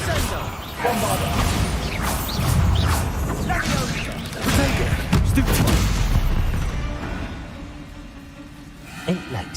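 Bombarda blasting spells go off in a Harry Potter video game during a fight with spiders, giving repeated loud booms and crashing impacts with rumbling debris that fade out near the end.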